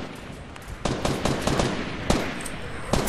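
Fortnite gunfire rattles in quick automatic bursts and single cracks, fairly loud and continuous over a rough background, with no talking.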